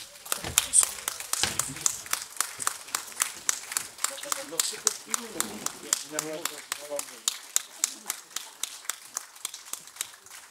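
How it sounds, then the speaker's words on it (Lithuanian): An audience at a ceremonial concert with a military band and a state choir gives an ovation of rhythmic, unison clapping that holds a steady beat throughout, while someone speaks over it. "Na taip pat nuostabios ovacijos aplodismentai, aišku, atlikėjams"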